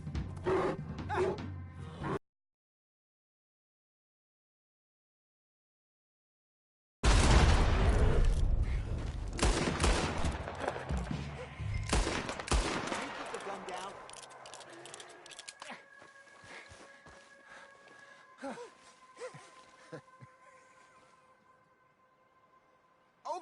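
Gunfire in a PS4 video game: a burst of loud rapid shots and impacts after a brief silence, fading into quieter clatter and tonal game effects, with a short bit of talk near the start.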